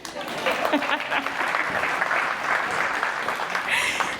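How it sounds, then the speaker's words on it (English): Audience applause fills a venue at a talk, steady and dense throughout, with a voice briefly heard near the end. "You can clap for me."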